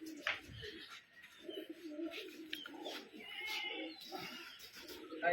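A trick-flying pigeon coos faintly in short, rounded bursts, while quiet voices and other soft background sounds come and go.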